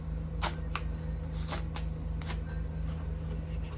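An envelope is torn open close by in a few short, crisp papery rips, spaced apart over a steady low hum.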